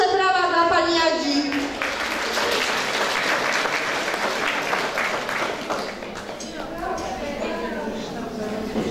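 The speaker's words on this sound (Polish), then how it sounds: "Duże brawa dla pani Jadzi." An audience claps for a female instructor called to the stage at a spring song festival, a dense sustained ovation that is loud at first and eases slightly toward the end, with a faint voice at the start.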